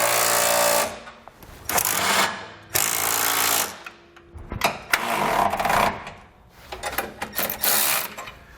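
Bursts of an impact wrench or power tool tighten U-bolts and suspension mounting hardware for Air Lift LoadLifter 7500 XL air helper springs on a 2020 Ford F-series truck, several loud rattling runs with short pauses and clicks between them.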